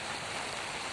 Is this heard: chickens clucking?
no